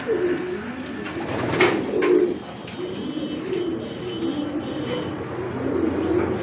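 A saddle pied racing pigeon coos in soft repeated low murmurs at close range, with a brief flutter of other bird sounds and no speech.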